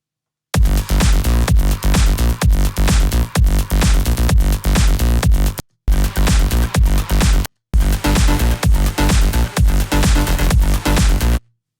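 An electronic beat plays loudly in full-range bursts with a steady punchy rhythm, stopping briefly twice before continuing.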